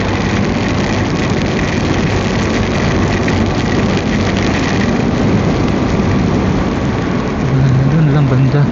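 Heavy rain, with thunder, pours during a Honda ADV160 motorcycle ride on the Infanta–Quezon road, a loud, constant roar of downpour and rushing noise throughout, with a voice speaking at times.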